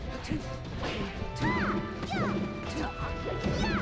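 Sheik's down smash strikes in a Super Smash Bros. team match land as sharp, punchy crashes and whacks, several quick hits in a row with whooshing swipes amid busy game sounds.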